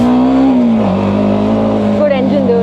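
A TVS Apache RTX 300 motorcycle with a 300 cc engine runs steadily near the microphone, its loud, even drone holding throughout with a slight shift in pitch partway through.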